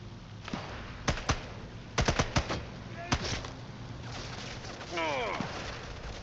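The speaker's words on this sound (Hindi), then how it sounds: "Submachine gun. हाँ, शॉर्ट कंट्रोल बर्स्ट्स." Submachine gun fire in Sniper Elite 5, several short controlled bursts of sharp cracks spaced across a few seconds, close and loud, with a whooshing swell near the end.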